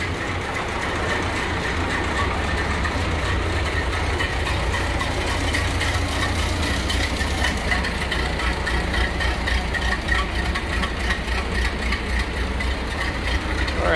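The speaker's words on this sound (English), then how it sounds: "An unmistakable Model A sound." A 1928 Ford Model AA four-cylinder engine idles steadily nearby, a continuous low chugging drone that stays even and moderately loud throughout.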